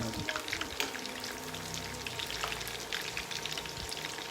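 Tempeh fries in a non-stick village wok with a steady, crackling sizzle and scattered oil pops. A faint voice murmurs low underneath.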